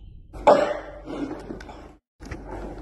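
A man coughs indoors. One sharp, loud cough comes first, then a few softer throaty coughs and a throat clear, with a short silent gap near the end.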